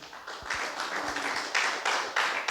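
A church congregation at a Christmas celebration in Itanagar claps in bursts, rhythmic hand claps at moderate distance with a roomy ambience.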